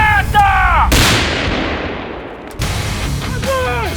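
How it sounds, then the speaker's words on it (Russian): A grenade blast at a military combat training exercise, loud and close, a sudden heavy boom followed by a long, fading rumbling tail, framed by whistling sweeps and background noise before and after. "Граната!"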